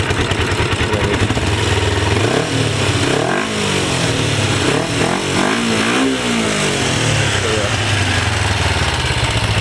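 A 2004 Kawasaki Ninja EX250R motorcycle engine runs steadily and close by, its loud, continuous drone rising and falling as the throttle is blipped in the middle.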